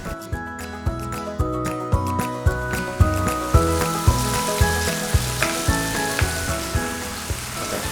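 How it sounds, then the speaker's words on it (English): Lamb shoulder sears in hot vegetable oil in a cast iron pot, a dense, close sizzle with rhythmic sputtering pops and crackles repeating through the stretch. "I'm just going to add some vegetable oil and I'll sear and brown my lamb in it"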